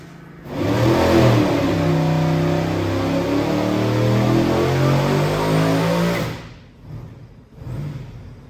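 A twin-supercharged LS V8 on a dyno climbs through a loud, sustained rev for about six seconds, its pitch rising steadily, then cuts off abruptly and settles into two short lower bursts of idle blips.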